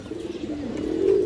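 A male Jabra Khora-gola pigeon gives a single soft, low coo that rises slightly in strength toward its end, close by.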